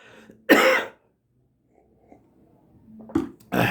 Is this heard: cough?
yes